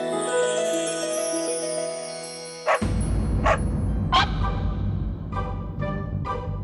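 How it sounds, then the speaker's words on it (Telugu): A street dog barks in a Telugu TV serial scene: background music fades out, then about six sharp barks follow at irregular intervals, close and loud. "ఈ కుక్క మా వీధిలోకి ఎలా వచ్చింది?"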